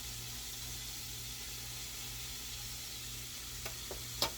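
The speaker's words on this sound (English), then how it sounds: "And you just let that fry" Pork backstrap fries in a fry pan with a steady, even hiss of sizzling fat that holds close and constant, with a couple of brief clicks near the end and no voices.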